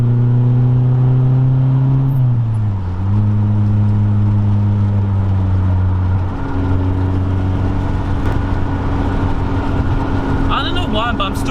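Project car engine revving and accelerating on a private road, a loud steady drone that drops in pitch around the gear change then climbs again, heard from inside the car.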